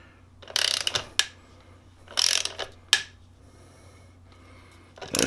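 Ratchet torque wrench tightening a motorcycle frame slider bolt on a 2018 Aprilia Tuono Factory, with several short close bursts of rapid ratcheting clicks separated by quiet pauses.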